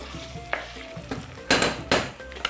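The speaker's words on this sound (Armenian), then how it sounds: "Մարինացված միսը կարմրացնում ենք։" Marinated lamb browning in a pan for a lamb sauce, a soft steady sizzle broken by a few sharp scraping stirs and clanks of a utensil against the pan.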